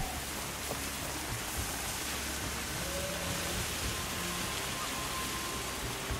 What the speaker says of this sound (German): Das hört sich an, als würde es regnen, aber es regnet gar nicht.